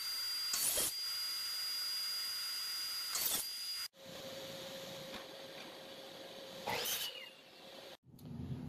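Saw cutting a strip of wood to length: a loud, high motor whine with brief bursts of blade-through-wood noise, stopping, then restarting for a second cut, close by.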